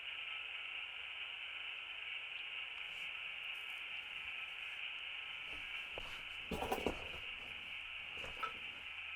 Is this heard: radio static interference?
yes